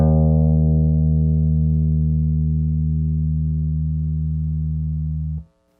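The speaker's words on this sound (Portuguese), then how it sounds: "Você pode deixar o baixo ir até o som acabar" A single sustained bass guitar note is left ringing from a bass line, a steady, loud, pure low tone that holds evenly for over five seconds before cutting off, with no talking.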